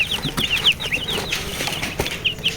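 Chickens clucking and peeping close by as they are put into an enclosure, a quick run of short, repeated calls with some rustling and scuffling underneath.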